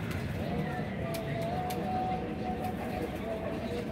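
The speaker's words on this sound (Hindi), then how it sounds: "ये देखें जी नीचे आ रहे हैं कबूतर" Pigeons flutter down to feed on scattered naan and halwa, soft cooing rising over a constant outdoor background rumble.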